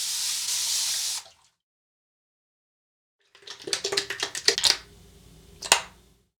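Tap water runs into a sink, then after a pause comes splashing and patting as alum is rinsed off a face, with a final sharp splash.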